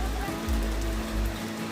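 Rain falls on a riverside cooking spot, a steady wash of water noise mixed with low rumbling thumps, as a voice speaks briefly over it.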